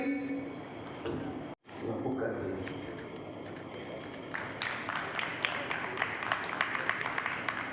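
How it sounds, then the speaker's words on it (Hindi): Audience clapping at a community gathering in a hall, rising to a louder, denser round of applause midway, with a voice over it at the start and scattered sharp claps near the end. "तालियां मनीष भाई के लिए बजाएंगे, जोरदार तालियां।"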